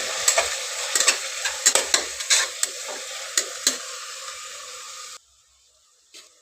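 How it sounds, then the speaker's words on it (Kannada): Tomato frying with spice paste in a pan for a vegetable-free pulao: a loud close sizzle broken by repeated scraping stirs, which cuts off abruptly near the end, leaving near silence and one small knock. "ಟೊಮೊಟೊ ಹಾಕ್ಕೊಂಡು ಸ್ವಲ್ಪ ಫ್ರೈ ಮಾಡ್ಕೊಳ್ಳೋಣ"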